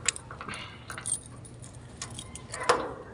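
A bunch of keys jangles and clinks near a door lock as a key is worked loose from it, with scattered metallic rattles and a sharper jingle near the end over faint background hum.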